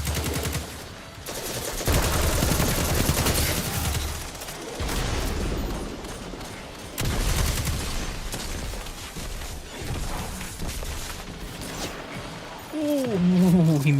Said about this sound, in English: Oh, he missed that sniper shot too.